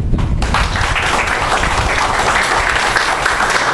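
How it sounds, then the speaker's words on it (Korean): A seated audience at a public debate forum on university tuition breaks into dense, sustained applause, steady and full-bodied from start to finish. "힘내시라고 박수 한번 부탁드립니다."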